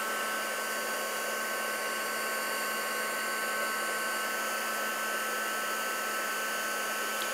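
A heat tool blows hot air to melt embossing powder on a poinsettia die-cut card, a constant, smooth whooshing drone heard close and unbroken throughout, with no speech.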